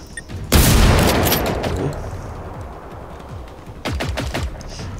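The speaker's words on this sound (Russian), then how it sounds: "Кто по мне стреляет?" Gunfire in the video game Generation Zero: a loud close burst of shots that decays into a rumbling tail, then a second rapid volley of sharp cracks near the end.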